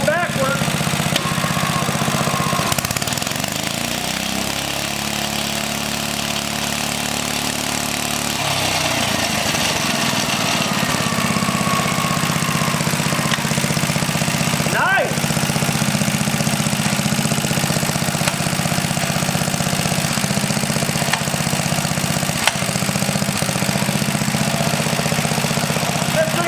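A rare 1950s engine runs steadily and loud for the whole stretch, with a low rhythmic chugging that changes tone briefly near the start and a sharp knock partway through.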